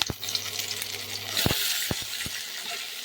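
Chopped onion sautés in a pan for macaroni pasta, giving a steady close hiss of frying throughout, broken by a few sharp clinks of a spoon against the pan.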